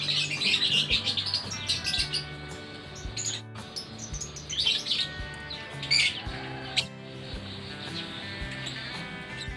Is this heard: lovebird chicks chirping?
yes